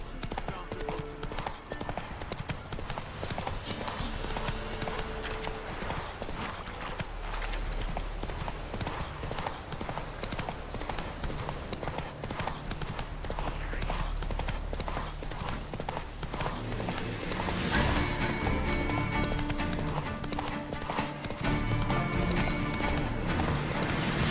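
Roach, the horse in The Witcher video game, gallops with rapid, rhythmic hoofbeats that keep up a steady clip-clop for over twenty seconds, with a brief whinny and game ambience around them.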